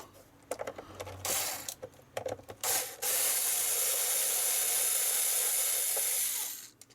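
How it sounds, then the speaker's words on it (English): An electric screwdriver whirs in short bursts and then one long sustained run while removing screws from an Acorn Electron home computer's plastic case, close and fairly loud, with scraping and clicks between. "4 screws, 2 and 2"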